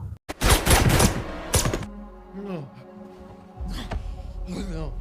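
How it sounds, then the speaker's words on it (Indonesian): Gunfire in a film shootout: a loud, dense burst of rapid shots at the start, a second short volley, then quieter stretches with other film sounds. "baku tembak tidak dapat dihindarkan"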